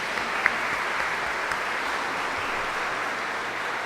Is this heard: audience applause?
yes